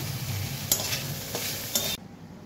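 Ginger and chopped tomato fry in a pan with a loud, steady sizzle. A utensil stirs through them with a couple of sharp scrapes, and the sizzle cuts off abruptly near the end.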